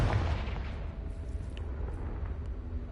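Confringo blasting spell explosions in the Hogwarts Legacy video game, a dense booming rumble with sharp bursts, loud and continuous, with no voices.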